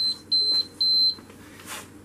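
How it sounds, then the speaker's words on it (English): A Miele FN28262 freestanding freezer sounds its door-open alarm: a series of short, high electronic beeps in a steady on-off rhythm, close and clear, with no talking. "It beeps if the door's open, basically."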